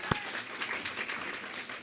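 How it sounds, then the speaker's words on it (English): Audience applause at an awards celebration dinner for the master of ceremonies, a brief steady burst of many hands clapping from a seated crowd. "Let's give him a round of applause"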